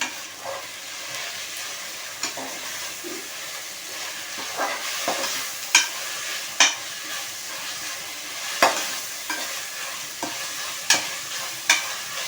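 Ginger paste with coriander and mint frying for paneer biryani, a soft continuous sizzle punctuated by frequent sharp spatula clinks and scrapes against the pot, close by and with no talk.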